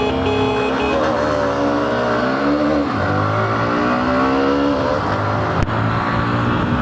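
Two Hero Xtreme 125R motorcycles, 2026 and 2025 models, launch side by side in a drag race, engines revving loudly with rising, climbing pitch sweeps and a brief sharp click near the end, no voices.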